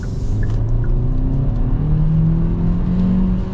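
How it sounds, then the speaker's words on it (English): A 2024 Hyundai Kona with front-wheel drive pulls hard under acceleration, its engine note rising steadily over a continuous road and tire rumble heard from inside the cabin, with no voices. "It does not have a problem with acceleration"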